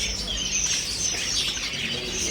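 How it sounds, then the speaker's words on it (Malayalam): Golden finch at a busy Sharjah pet market gives thin, high chirps and twitters over a steady bed of market background noise, continuous and moderately close. "Golden Finch."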